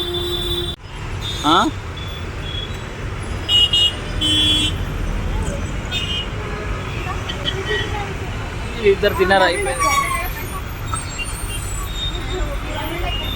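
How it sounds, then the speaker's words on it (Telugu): Heavy road traffic of cars and buses, a continuous roadway roar with occasional horn toots, while people talk nearby. "మొత్తం ట్రాఫిక్"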